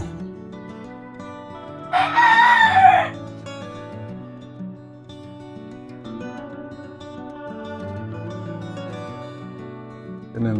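A rooster crows once, loud and close, for about a second over steady background music.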